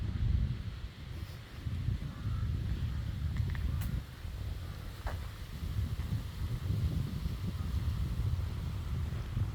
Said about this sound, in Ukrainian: Вітрик, але вітер такий добрий, такий якийсь приємний, теплий